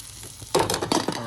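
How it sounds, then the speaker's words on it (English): Grits whisked in a pot on the stove, a few quick scraping, stirring strokes starting after a brief quiet moment, close and fairly loud with a sizzling texture. "We're going to just give them a quick whisk"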